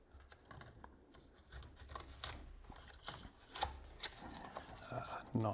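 Scissors snip and rustle through the packaging of a Bambu Lab H2C 3D printer, a string of quiet, close crisp cuts and crinkles in an irregular rhythm, with no talk.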